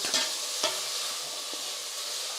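Bhuna khichri stirred in a pan with its spices, a dense continuous sizzle with a couple of brief spoon scrapes near the start.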